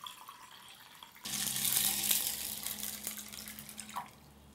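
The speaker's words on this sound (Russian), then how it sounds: "Наливаю пол-литра сюда" Filtered water poured from a pitcher into a pot, a steady splashing stream that starts abruptly, runs for about three seconds and tapers off.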